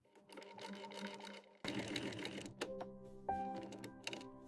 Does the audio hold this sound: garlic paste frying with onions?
no